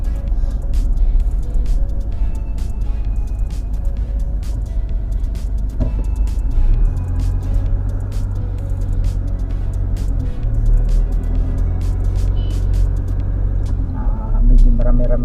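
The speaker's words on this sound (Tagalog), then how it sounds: "Medyo marami-rami sasakyan." Busy car traffic at NAIA Terminal 3 in Manila, a steady close rumble of idling and passing vehicles with a heavier engine drone joining midway and occasional sharp clicks and knocks over the noise.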